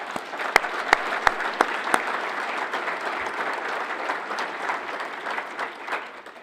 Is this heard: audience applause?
yes